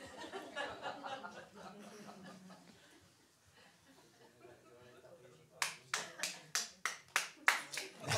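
Applause from a studio audience at a live-style talk show recording, heard as a run of sharp, loud bursts of clapping in the latter half after a stretch of talk and light laughter.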